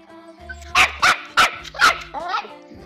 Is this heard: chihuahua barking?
yes